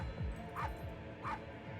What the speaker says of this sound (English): Look, it's the dog. Oh, he has a little woof.